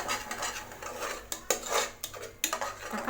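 A spoon works ground tomato into ginger-garlic paste in a pan for a soya chunk curry. Quick metallic scrapes and clinks ring out close up in brisk, uneven strokes with no talking.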